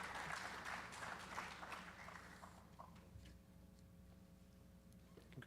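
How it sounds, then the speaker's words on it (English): A school board meeting audience applauds, with a dense burst of clapping that thins out and fades after a few seconds. "One more round of applause for Maya, Kira, and Miss Marciana for stepping in tonight."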